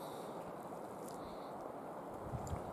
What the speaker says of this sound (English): Listen to the wind. It's beautiful.